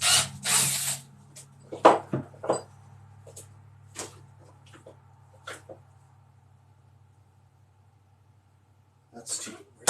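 A power drill boring a hole in short bursts, a few sharp whirring spurts separated by quiet gaps, with a faint steady hum underneath and a final burst at the end.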